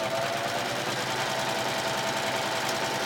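A serger sewing machine runs a wave stitch on woven placemat fabric, its rapid mechanical whir steady and unbroken at close range with no voices.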